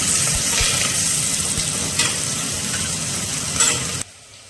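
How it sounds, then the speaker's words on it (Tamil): Small and large onions, green chilies, dried red chilies and curry leaves sautéing for tomato rice, a loud, steady oil sizzle close up with occasional stirring clatter, cutting off abruptly near the end. "இப்போ நம்ம சின்ன வெங்காயம், பெரிய வெங்காயம், பச்சை மிளகா, வரமிளகா, கறிவேப்பிலை எல்லாம் சேர்த்துக்கலாம். சேர்த்து வதக்கி விடுங்க."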